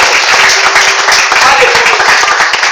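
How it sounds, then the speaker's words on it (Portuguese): A church congregation applauds during a worship service, loud, close and continuous clapping from many people, mixed with voices calling out over it. "Aplauda o Senhor porque Ele merece, porque Ele é digno."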